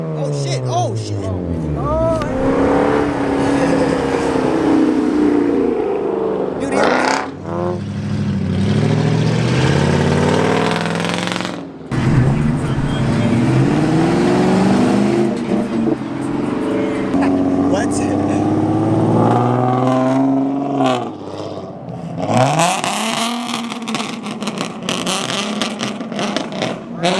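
Honda car engine revving hard at a crowded car meet, repeated rising and falling rev sweeps with brief lifts off the throttle, loud and close, with people shouting and talking throughout.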